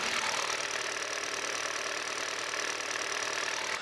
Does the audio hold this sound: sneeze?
no